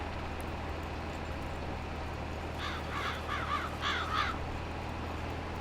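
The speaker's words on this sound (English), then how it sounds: "The birds agree." Crows in Farming Simulator caw in a short burst of harsh repeated calls partway through, moderately distant over a steady low engine-like hum, with no talking.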